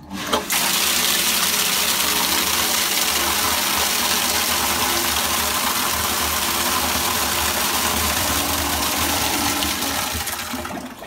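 A brewing pump fills the underback with a loud, steady rush of water and motor hum that runs almost unchanged for about ten seconds, close and without talk.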